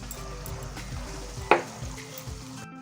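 Schezwan sauce with tomato ketchup, soy sauce and vinegar sizzles in a pan while being stirred, a continuous low bubbling hiss with a sharp utensil scrape near the middle.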